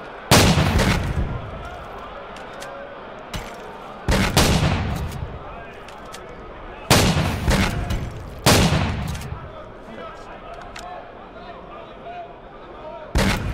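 Shotgun fire in the Roblox game The Hunt: four loud, sharp blasts spaced a few seconds apart, each with a booming decay, plus a softer shot, over steady game background.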